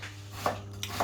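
A knife dicing carrot on a cutting board in a van kitchen, giving a few quiet, separate chops over a steady low hum.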